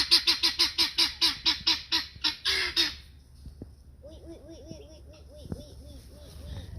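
Guinea fowl, year-old birds penned up, give a rapid run of about ten loud, rhythmic harsh calls, then shift to softer, repeated two-note cries that carry on steadily at moderate distance.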